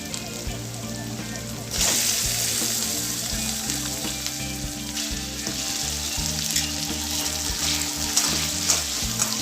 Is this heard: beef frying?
yes